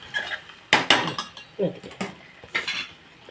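Utensil scraping and clinking against a pot while salt and chili are stirred into a taro curry, a series of sharp irregular knocks and scrapes at close range, no voices.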